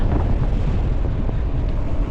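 Strong wind buffets the microphone in a steady, loud, low rumble that runs the whole time, with no voices, while cycling in the mountains.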